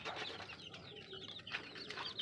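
Chickens in a crowded backyard coop where an SBR-line brood cock is kept, with steady nearby clucks and chirps over a busy background and no speech.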